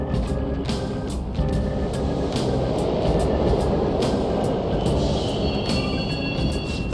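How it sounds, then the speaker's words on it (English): A subway train in a video game rumbles steadily with a dense low roar and rattling, with brief metallic clicks and a faint high squeal near the end. "The trains are totally running!"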